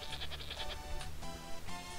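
A goat bleats in the video game Zoo Race, with several short wavering bleats in quick succession filling the two seconds, close and fairly loud.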